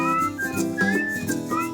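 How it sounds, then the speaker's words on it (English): Melodic human whistling carries the tune of a homemade recorded theme song, steady and prominent over a bed of self-played backing instruments, continuous throughout without any talking. "That's me doing all the whistling"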